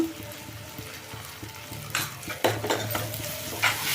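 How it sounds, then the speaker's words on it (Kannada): An eggplant stir-fry sizzles in a pan while two spoons of sambar powder are stirred in, quiet frying at first, then louder scraping and stirring bursts with utensils clinking against the pan. "ನಾನೀಗ ಸಾಂಬಾರು ಪುಡಿ ಹಾಕ್ತಾ ಇದ್ದೀನಿ ಎರಡು ಸ್ಪೂನು"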